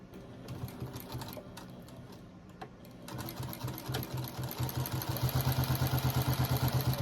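Sewing machine fitted with a walking foot stitching through layers of a rag quilt, a steady rapid mechanical clatter that starts unevenly then runs fast and loud in a continuous rhythmic drone, close up.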